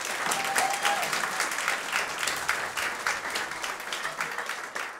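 Live comedy-club audience applauding steadily for five seconds, a dense wash of many hands clapping at close range with no voices over it.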